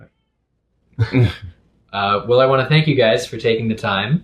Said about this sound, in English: apologies for the sounds of cat torture in the background.